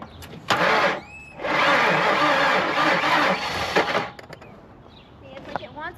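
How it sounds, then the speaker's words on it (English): A car engine with a suspected timing fault cranks in two long bursts of loud, rapid churning, separated by a short pause, then stops without catching; people talk briefly before and after. "I'm gonna have you crank it and I just want to see what it does."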